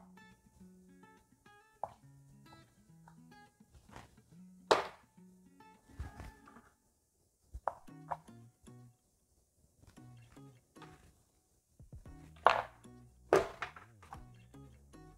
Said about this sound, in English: We're gonna do the exact same thing, just cut them into nice little chunks